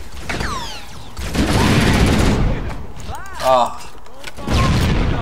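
A grenade blast in the Halo video game, a loud burst of noise in the middle followed by further game effects and chirping sounds, with a brief spoken exclamation.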